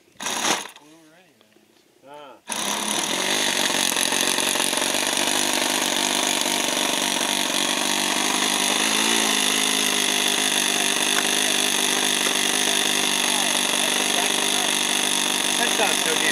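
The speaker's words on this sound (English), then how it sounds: "We wanted to hear that little 4-stroke run again. It's a 26 OS 4-stroke." OS 26 four-stroke model airplane engine running, giving a loud, steady, high buzzing drone that starts after a brief startup burst and holds nearly constant, with people talking at the start.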